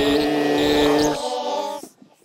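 A human voice transformed by a SuperCollider sound effect into a warbling, tonal, synthetic wail, loud and sustained for about a second before dropping lower and fading out.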